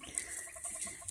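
Small farm quail give soft, quick chirping calls in a short close burst of several notes over quiet background rustle, with no talking.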